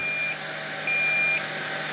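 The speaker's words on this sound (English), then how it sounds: "Shut itself off, it starts beeping, and it will beep until you come and shut it off." A Longer Ray5 10-watt laser engraver beeps after shutting itself off, giving steady repeating electronic tones over a low background hum, close and moderately quiet.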